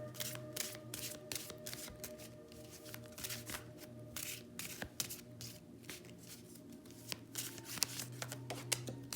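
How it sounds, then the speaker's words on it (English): Tarot cards from the Urban Tarot deck are shuffled by hand close up, giving a run of quick riffling bursts and soft slaps that repeat over several seconds before a single card is drawn, with no talking. "So I'm gonna pull one more card and we'll go from there."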